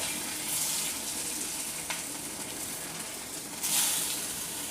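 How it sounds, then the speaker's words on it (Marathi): Steady, soft sizzling of coriander fritters shallow-frying in a lightly oiled pan, with a faint clink and a brief swell of hissing partway through. "त्यामध्ये 5-6 वडी अशा फ्राय करून घेणार आहे"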